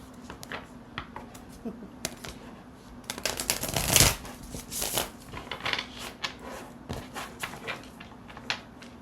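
A deck of tarot cards is shuffled close up, giving repeated quick riffling and flapping bursts with a louder flurry in the middle and short pauses between rounds.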